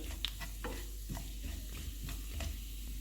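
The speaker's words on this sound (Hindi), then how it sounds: "इनको 30 सेकंड तक फ्राई करेंगे।" Cumin, mustard and nigella seeds crackle and sizzle in hot oil, with scattered popping bursts and occasional stirring over a steady low hum.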